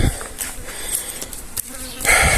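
Flies buzz steadily and close by around a slaughtered sheep on a hot day, a dense continuous drone with swells as they pass near.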